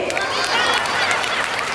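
A group claps together in a laughter exercise session, brisk continuous clapping mixed with crowd laughter and voices, close and fairly loud throughout.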